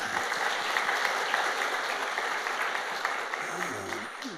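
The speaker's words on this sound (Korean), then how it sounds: "20년 동안 지켜주신 하나님 앞에 감사의 영광의 박수 올리겠습니다." A church congregation applauds in thanks during a Sunday morning service, a steady wash of many hands clapping at moderate level for several seconds without a break.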